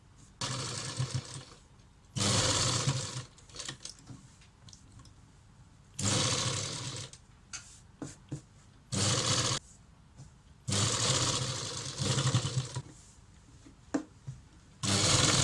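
Sewing machine stitching piping onto fabric along a square neckline in a tailoring lesson; loud, close bursts of rapid motor whirring and needle clatter that run a second or two each, separated by quieter pauses.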